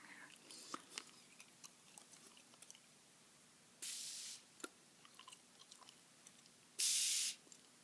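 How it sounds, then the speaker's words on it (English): Two soft ASMR spray bursts, like mist sprayed toward the listener's face, each hissing for about half a second to a second, close and gentle against a quiet background of faint mouth and chewing noises. "Like it's spraying, pretend it's spraying over your face."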